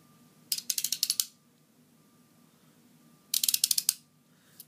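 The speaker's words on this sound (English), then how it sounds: "My backup blade is a folding knife." Folding knife with razor being handled, two quick bursts of close ratcheting mechanical clicks, each about half a second long, separated by a quiet pause.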